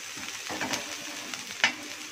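Chopped onion, curry leaves and green chili sizzle in hot oil in a pan for roadside egg kothu parotta, a soft steady frying crackle with a few sharper pops and spatula scrapes.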